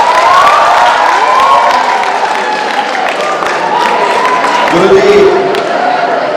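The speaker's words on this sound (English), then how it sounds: "I am getting claps only for food stalls" Audience at a community event bursting into applause, a dense burst of clapping and some cheering that rolls on for several seconds, loud and close, with a voice speaking over it.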